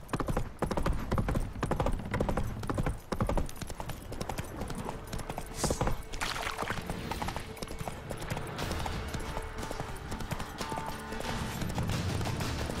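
Roach, a horse in The Witcher 3, gallops in a steady, rapid clip-clop of hooves that runs throughout, fairly close and even in rhythm.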